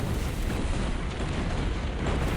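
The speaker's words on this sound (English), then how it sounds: "Even with firing from the mighty Churd cannon" Cannon fire and explosions from the video game Dawn of War roll together into a dense, continuous roar of blasts, loud and steady, with no voices.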